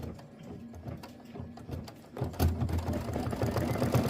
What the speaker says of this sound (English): We're going to do the tack down stitch